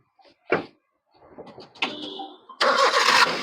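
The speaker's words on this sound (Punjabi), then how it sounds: "ਇੰਜਨ ਉਂਜਨ ਦੀ ਸਟਾਰਟ ਕਰਕੇ ਦਿਖਾਓ ਜੀ ਕਾਰ" A thump and rustling, then a 2010 Maruti Zen VXi's engine cranks and catches, settling into a loud, steady idle up close.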